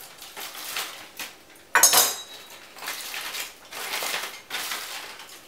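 Braised beef tenderloin being sliced with a knife on a plate, giving soft scraping cuts and one sharp clink of metal on china, with quiet handling noises between.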